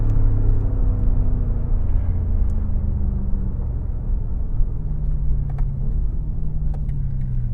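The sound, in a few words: BMW F90 M5 Competition car driving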